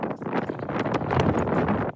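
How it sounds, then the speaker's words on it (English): Strong, steady wind buffeting the microphone outdoors, a loud rumbling roar with gusty surges and no voices. "it's quite windy out today"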